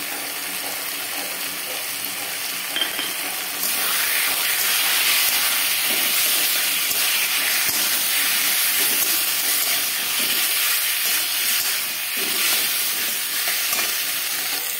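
Crushed garlic and chopped green chilli sizzle in hot oil in a pan, a loud, steady, close hiss of frying with occasional stirring scrapes.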